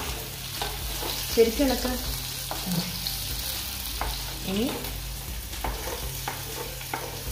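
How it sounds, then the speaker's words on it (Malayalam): Chopped small onions sizzle as they fry with ginger in a hot pan, a steady close crackle broken by scraping stirs, while someone talks softly over the cooking. "ഇഞ്ചിയുടെ പച്ചമണം മാറിക്കഴിയുമ്പോൾ ഈ ഉള്ളി അതിലേക്ക് ഇട്ട് കൊടുക്കുക"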